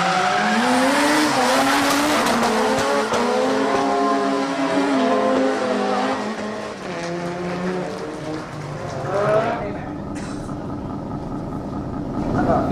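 Drift cars, including a red Mazda RX-7 FC and a Nissan S14, battle at Nakayama with loud, rising and falling engine revs and broad tire squeal throughout, a sharp shift near the end.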